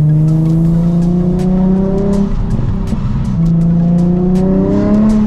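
A Nissan 350Z engine and exhaust drones loudly as the car drives along a road in Menifee, a steady close rumble with rising and falling pitch through gear changes, heard alone without talk.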